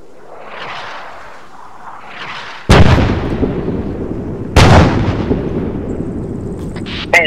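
White phosphorus mortar rounds in ArmA 3 land in two loud, sharp blasts a couple of seconds apart, each trailing into a long rumbling decay, after quieter distant noise, with a smaller pop at the very end.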